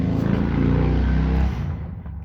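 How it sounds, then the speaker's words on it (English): A motorcycle engine drones loud and close on a busy street, a sustained low rumble with a steady harmonic buzz that holds for about a second and a half before easing off as it moves away. "We don't go a day without a motorcycle."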